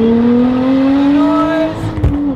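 Up close, a Lotus Exige Sport 380 engine accelerates hard on open roads, a loud rising tone climbing steadily for two seconds before a brief dip and thump as it shifts.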